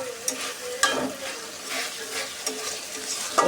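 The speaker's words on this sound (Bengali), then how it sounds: "এই যে মাংসটা কষাই নিতেছি" Meat being stir-fried into a thick kosha in a pan, with repeated scraping strokes of a spatula over a soft steady sizzle, close and moderately loud with no talking.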